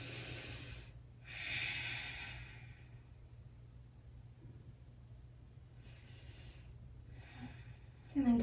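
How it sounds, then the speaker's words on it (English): Slow, deep breaths during a yoga forward fold, a long exhale near the start and softer breaths later, close and quiet over a low steady hum, ending in a brief louder breath. "And just breathe here."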